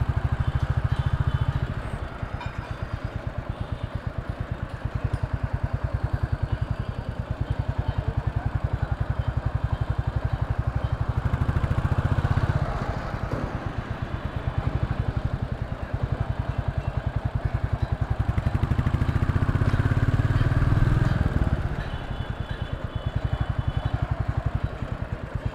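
A Royal Enfield motorcycle engine idles steadily throughout, a low, even thumping rumble up close with slight swells in loudness and faint background clatter.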